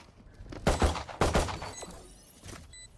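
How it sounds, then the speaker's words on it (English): A swarm grenade goes off in a tactical shooter game, giving two loud bursts of crackling blasts close together, then a fainter pop trailing off. "Placing swarm grenade."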